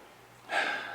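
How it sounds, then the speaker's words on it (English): A short nasal sniff taken close up over a glass of bourbon barrel aged porter, a soft intake that rises midway and lingers briefly over faint background hiss. "So anyway, let's get our nose on it."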